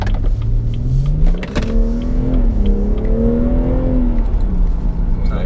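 BMW M240i engine accelerating from inside the cabin, a steady rising drone that climbs in pitch through the gears, loud and continuous with a brief dip partway.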